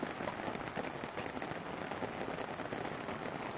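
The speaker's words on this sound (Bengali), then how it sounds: "খুব বেশি যে বৃষ্টি হচ্ছে তা না" Light rain falls steadily over a village, a soft continuous patter of drops on surfaces, close and even throughout with no voices.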